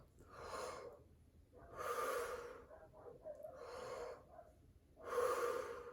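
Slow, deep, low-pitched breaths, about four in and out, close and fairly quiet, with nothing else around them.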